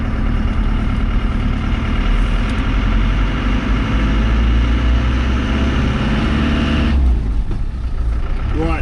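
A 1998 Land Rover Defender with a 3-litre turbo diesel running, a steady low rumbling drone close by that holds throughout.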